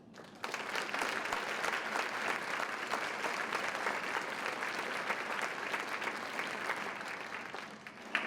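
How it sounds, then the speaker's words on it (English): Sustained audience applause at a leadership awards afternoon, dense and even clapping that starts abruptly and holds steady before tapering at the end, with no talking over it. "Let's also give a round of applause to the Chamber of Commerce"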